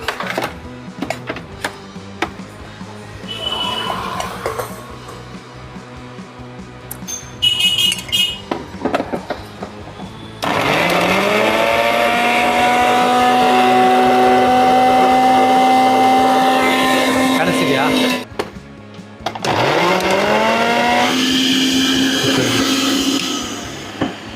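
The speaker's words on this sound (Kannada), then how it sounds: "ನೋಡಿ ಮಿಕ್ಸಿ ತೊಗೋತೀನಿ, ಒಂದು ಹಳೆ ಮಿಕ್ಸಿ, ರಿಪೇರಿ ಬಂದಿರೋದು ಕಸ್ಟಮರ್ದು." An old, customer-brought mixer grinder under repair, fitted with a steel box jar, whirs up to a loud, steady motor drone, stops briefly, then spins up again and runs on, with clicks and handling noises before it starts.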